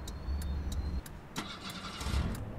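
Bus engine in Bus Driver Simulator 2018 restarting: a low idle rumble cuts out, a few sharp clicks follow, then the engine cranks and catches into a steady mid-pitched running drone.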